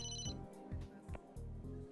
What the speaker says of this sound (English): We got a call on our new fancy phone.